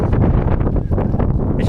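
Steady roaring wind buffets the microphone throughout, a dense low rumble with gusting surges and no clear voices.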